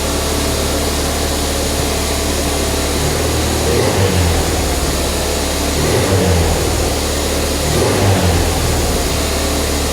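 A Ford Fiesta ST180 with a broken inlet manifold runs at a high idle, a loud, close, steady engine drone with a couple of slight swells as the revs hunt, no talking over it.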